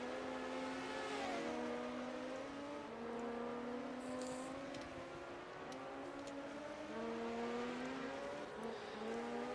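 Cars from the 1980 Procar series race past on the Nürnberg track, a steady, distant engine drone with rising and falling pitch as the cars rev and pass, faint and continuous with no talk.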